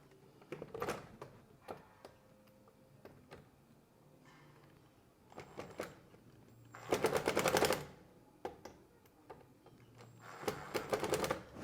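Shutter fasteners are driven tight in bursts of rapid ratcheting clicks from a power driver, several close, loud runs of a second or so separated by quiet gaps.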